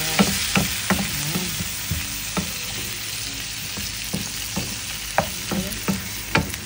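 Food frying in oil in a pan while being stirred, with a constant loud sizzle and repeated sharp scrapes and taps of the utensil against the pan, close up.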